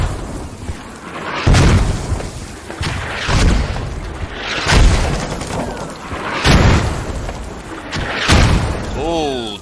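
Mortar shells from the military shooter Squad explode in a string of about six heavy booms, each a deep thud with a rumbling tail, spaced a second or two apart, with a commentator's voice running over them.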